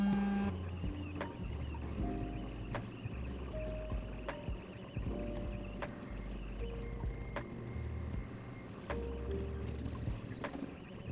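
A 3D printer drawing after calibration, its stepper motors whirring and buzzing in shifting tones with regular short clicks as the head moves, close and steady with no voices.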